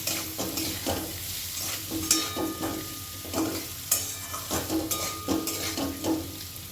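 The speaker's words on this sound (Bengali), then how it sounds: "মিষ্টি কুমড়ো আলুটা আমি আরেকটু ভেজে নেব" Sweet pumpkin and potato pieces fry with coriander powder and other ground spices in a pan. A steady sizzle runs beneath repeated stirring scrapes and clinks from a spoon on metal, sounding close with an uneven rhythm.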